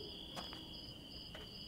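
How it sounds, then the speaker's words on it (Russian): Steady high insect whine from mosquitoes in the Contraband Police game world, two sustained tones droning without a break, with a few faint clicks over the top. "Комары летают."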